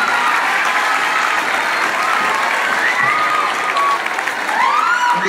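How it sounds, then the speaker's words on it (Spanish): A crowd claps warmly at a kindergarten orchestra performance, loud continuous applause from the start, with a few brief whistles or squeals rising above it near the end. "¡Ese aplauso!"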